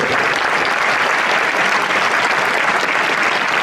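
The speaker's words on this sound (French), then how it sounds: "On les applaudit bien fort" Loud, sustained applause fills an awards hall as the crowd honours regional road-racing cycling champions at a sports ceremony, a dense unbroken wash of clapping with no pauses.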